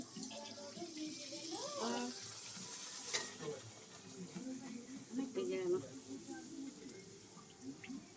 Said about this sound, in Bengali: আমরা ভাজছি ফুলকো লুচি।